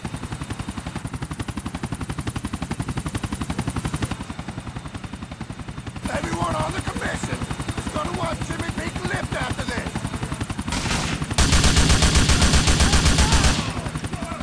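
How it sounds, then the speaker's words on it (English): Helicopter in the GTA IV video game, its steady rotor chop running throughout under bursts of gunfire and an explosion-like loud stretch near the end, with a voice talking over the action. "there's the helicopter right now"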